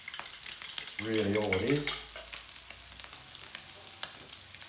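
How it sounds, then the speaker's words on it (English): A fork stirring rice as it cooks in a pot, with soft scraping and light clinks over a quiet simmer and a brief spoken phrase in the middle. "a fork, give it a bit of a stir"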